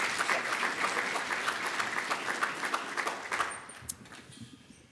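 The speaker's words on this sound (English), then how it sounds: "Give him a round of applause." Applause from a demo day audience as a company's CEO and founder is called to the stage: dense, steady clapping from a crowd that fades out over the last second.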